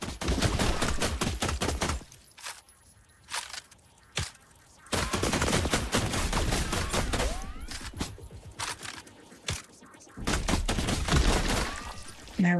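Gunfire in a sci-fi survival video game as a small critter is shot: several bursts of rapid shots, loud and close, separated by brief quiet gaps with isolated single shots.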